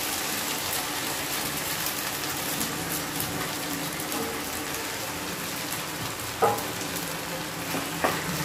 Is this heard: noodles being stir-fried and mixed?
yes